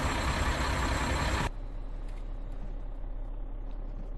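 Mack Pinnacle truck in American Truck Simulator, a loud broadband engine burst that cuts off abruptly after about a second and a half, leaving a steady low idle rumble with faint clicks.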